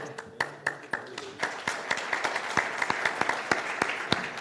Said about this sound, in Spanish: ¿le aplauden porque habló poquito o por lo que dijo?